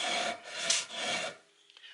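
Rough sanding of a wooden guitar neck headstock, close and fairly quiet: two raspy back-and-forth strokes of abrasive on wood, then the rubbing stops.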